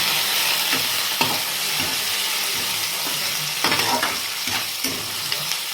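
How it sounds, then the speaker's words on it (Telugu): Ginger garlic paste and turmeric being stirred into a pan for a simple chicken curry, a steady loud sizzle with scraping spoon strokes and occasional knocks against the pan. "ఇప్పుడు దీంట్లో మనం కొంచెం అల్లం వెల్లుల్లి పేస్ట్ కొంచెం పసుపు వేసుకొని బాగా కలుపుకోవాలి"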